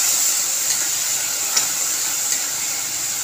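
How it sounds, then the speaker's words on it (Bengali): Water hitting a hot pan of tomato and spices, producing a continuous, fairly loud hissing sizzle with a couple of brief sharper pops, heard alone with no voices. "জল ঢেলে দেবো।"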